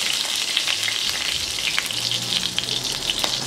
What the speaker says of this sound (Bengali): এবার আমি এর মধ্যে গরম মশলা অ্যাড করছি, দিয়ে দিচ্ছি 3টা তেজপাতা, 1 টুকরা দারচিনি, 4-5টা এলাচ, 2-3টা লং আর কিছু গোলমরিচ।